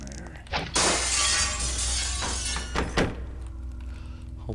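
Window glass shatters in the stealth game Thief 2: The Metal Age, a sharp crash followed by a spray of tinkling shards, then a second smaller break, close and loud over quiet ambient hum.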